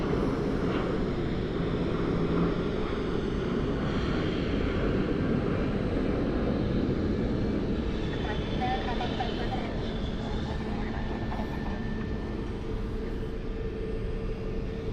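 Airplanes roll and idle on the dual runways at Cleveland airport at night, a steady distant engine drone and hum with faint whining tones, and someone talks over it now and then.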